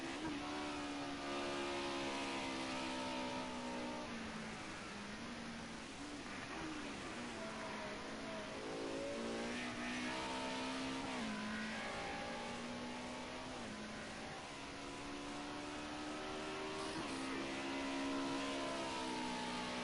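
Several Mercedes 190E race cars run at Snetterton, their engines a continuous layered drone that rises and falls through gear changes as they race side by side, with faint commentary underneath.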